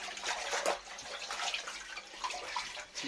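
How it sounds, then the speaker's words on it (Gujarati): Water splashes and sloshes continuously inside a Sintex plastic water tank as it is washed and mopped out, a close, steady wet scrubbing with irregular splashes and no talk. "નિશાબેને ટાંકું ધોઈ નાખ્યું છે હવે અંદર પોતું મારે છે"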